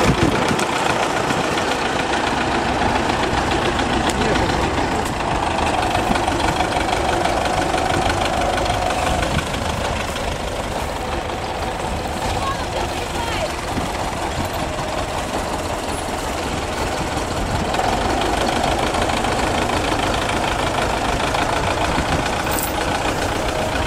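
A tractor fitted with a KUN front loader idles steadily for the whole stretch, its engine a continuous close mid-pitched rumble with a slight knocking texture and no breaks, heard on a dairy farm.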